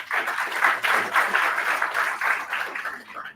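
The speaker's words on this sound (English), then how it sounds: "Let us have a big round of applause for them." Audience applause at a student IEEE branch event, a steady wash of many hands clapping for over three seconds at moderate loudness, with no clear talk over it.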